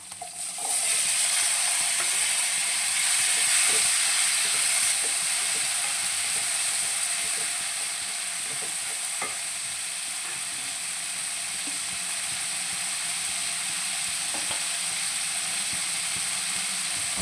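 Chopped raw plantain hitting hot oil with green chillies, a loud burst of sizzle at first that settles into a steady hiss, with occasional scraping stirs.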